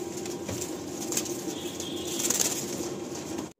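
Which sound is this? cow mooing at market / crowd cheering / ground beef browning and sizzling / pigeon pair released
pigeon pair released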